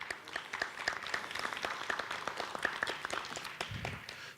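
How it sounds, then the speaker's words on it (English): Audience clapping for debaters and judges at a university debate competition, a steady patter of many hands, fairly soft and sustained throughout with no speech over it. "let's give one more round of applause to the debaters and to the judges"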